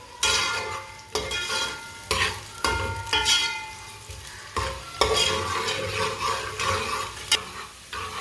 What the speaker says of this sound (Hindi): एक बरीक कटा हुआ प्याज, प्याज को थोड़ा सा ब्राउन कर लेंगे।